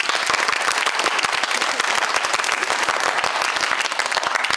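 Loud, sustained applause from an audience at an improv festival, steady dense clapping during a scene vote, with no voices over it.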